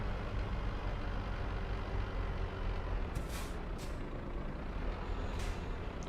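A truck in Euro Truck Simulator 2 sends out several short, sharp air-brake hisses, two close together and one a little later, over a constant low engine drone.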